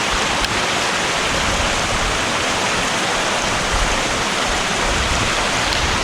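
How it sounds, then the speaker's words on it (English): A waterfall on Ben Nevis roars steadily and loudly, a dense unbroken rush of falling water close by with no voices. "Halfway point and a stunning waterfall right in the middle of it all."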